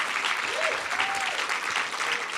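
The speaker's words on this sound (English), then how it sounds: "if we could get a round of applause" Sustained audience applause at an MIT generative AI summit, a steady dense wash of clapping throughout with a few faint voices underneath.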